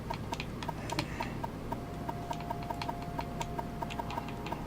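Rapid, irregular clicking of keys on a computer keyboard, close and steady throughout with no voices.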